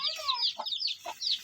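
A hen clucks in short, close bursts, defensive and agitated over her chicks in a village yard, with a few sharper chick-like chirps between the clucks.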